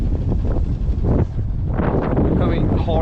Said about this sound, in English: Coming hard winds from land.